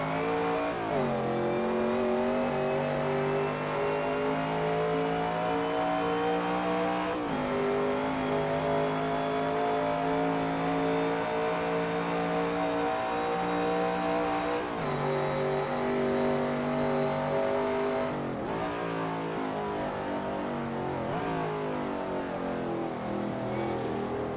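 A vintage sports car engine in Assetto Corsa, lapping the classic Spa Francorchamps circuit, drones loud and sustained. The revs climb steadily, then drop sharply at gear changes roughly every seven seconds.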